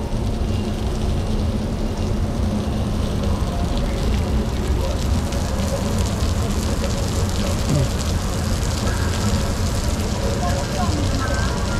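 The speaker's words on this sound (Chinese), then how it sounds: "这是下雨呢" Steady rain falls throughout, a dense, continuous hiss and patter at an even level, with voices talking over it.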